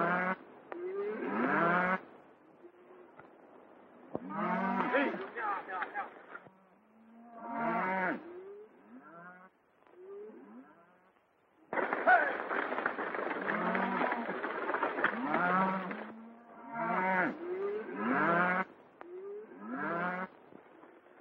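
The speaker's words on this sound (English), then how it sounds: "a nice bunch of cattle you're sending to market, Mr. Dawson." A herd of cattle being driven to market lows in repeated, overlapping bursts, several animals mooing at once with short pauses between, fairly close and with no talk.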